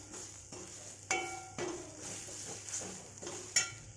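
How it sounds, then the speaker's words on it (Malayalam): Chicken parts sautéing with chicken masala in a pan: clinks and scrapes of a utensil against the pan with soft sizzling, several distinct knocks spread across a few seconds, close and moderately quiet. "അത് ചേർത്ത് അതും ഒരു 10 സെക്കൻഡ് വഴറ്റാം."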